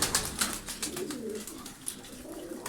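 Pedigree pigeons coo in a loft, several low soft rolling calls overlapping near the recorder, with scattered light wing and cage sounds in the background.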